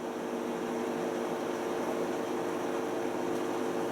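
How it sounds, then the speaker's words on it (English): A steady, even broadband whir with a low hum underneath, like a dishwasher running nearby, unchanging throughout with no talk. "There's a dishwasher in the background."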